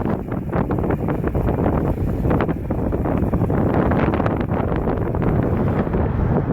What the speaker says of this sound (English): Wind is still in my face, so it's not fun